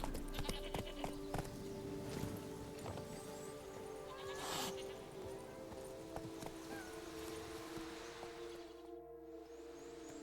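Horse hooves clip-clopping at a steady pace through The Witcher 3 game world, with an occasional neigh and ambient background sounds.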